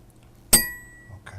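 A drinking glass is struck once with a fork, giving a bright clink with a ringing tone that fades over about half a second in an otherwise quiet setting.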